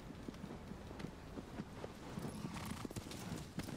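A horse galloping in the video game Shadow of the Colossus: steady, rhythmic hoofbeats thud close by over a constant rush of wind, with no talking.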